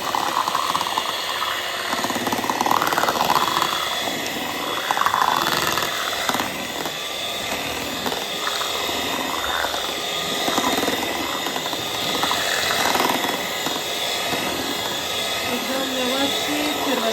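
An electric blender churns set cream into butter for ghee with a continuous whirring, sloshing hum that holds steady throughout while someone talks over it.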